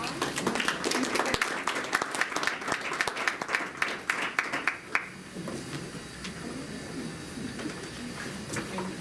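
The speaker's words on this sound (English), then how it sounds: "Give you a round of applause." Audience applause after a seminar panel session, a dense crowd of clapping hands that rings out strongly for about five seconds, then thins into scattered claps and low room murmur.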